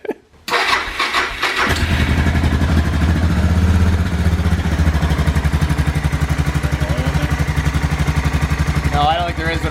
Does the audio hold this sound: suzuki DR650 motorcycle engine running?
yes